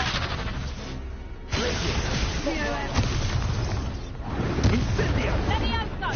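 A Confringo blasting spell bursts in Hogwarts Legacy combat. A sudden, loud boom hits partway through, then a dense, rumbling roar of battle carries on under voices shouting in the game.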